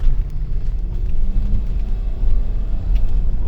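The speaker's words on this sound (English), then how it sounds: "I'm gonna run a U-turn so we can go back on this road." A Toyota Sequoia SUV's engine heard from inside at night during a U-turn, a steady low rumble with slight swells in power and no talk.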